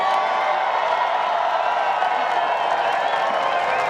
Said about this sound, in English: The home crowd stand and applaud